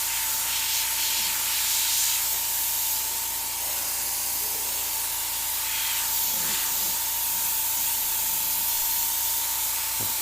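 An airbrush spraying paint gives a steady, loud, close hiss that runs unbroken throughout, with a constant whine from the compressor or motor underneath and faint handling noises.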